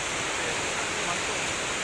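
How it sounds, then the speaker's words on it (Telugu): Steady broadband roar of water pouring down the Kuntala waterfall, a continuous dense rush heard close and loud with no voices. "మీరు చూడవచ్చు వాటర్ ఫాల్స్ చాలా బ్యూటిఫుల్గా ఉన్నాయి"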